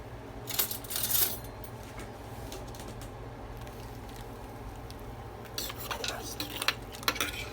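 A spoon stirs Lipton onion soup mix into beef stew in a crockpot, scraping and clinking against the pot in short bursts near the start and again toward the end, fairly quiet and close.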